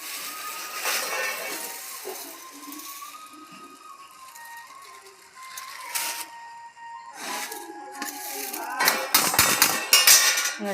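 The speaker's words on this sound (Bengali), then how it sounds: "ছোলা মুড়িটা এবার মিশালাম।" Puffed rice and chickpeas tossed together in a bowl, with dry rustling and clinking of a utensil against the dish, growing busier and louder toward the end, with no talking.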